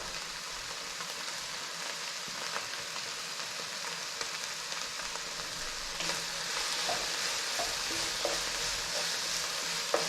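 Ginger boils in a pot with a steady, dense bubbling hiss and scattered soft pops that run continuously at moderate volume.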